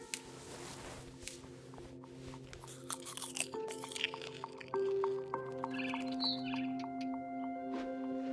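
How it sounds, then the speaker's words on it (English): Eating in What Remains of Edith Finch, crunchy bites and wet chewing sounds up close, scattered through the first half, over soft sustained music tones. "I kept eating and eating. I ate a lot of things that night."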